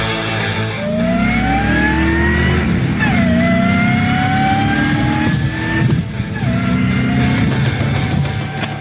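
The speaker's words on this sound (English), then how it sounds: "Gotta love those supercharger noises." A supercharged Volvo 240 revs loudly and close, its engine pitch rising in long pulls, dropping back between revs and climbing again over a steady rumble, with supercharger whine throughout.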